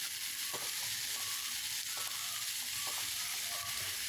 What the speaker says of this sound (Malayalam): ഈ രണ്ടും കൂടിയിട്ടൊന്ന് മിക്സ് ചെയ്തിട്ട് ഈ പയറൊന്ന് വേവിച്ചെടുക്കുക.